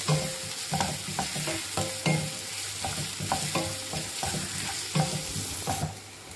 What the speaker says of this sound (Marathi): हा कांदा तेलावर परतून झालाय